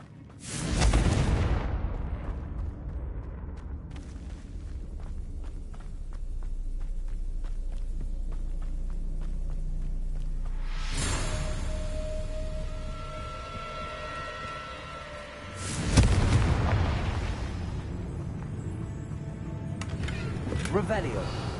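Confringo blasting spells explode in Hogwarts Legacy, heavy booming bursts near the start, around eleven seconds and again near sixteen seconds, with rumbling game sound and spoken voice between them.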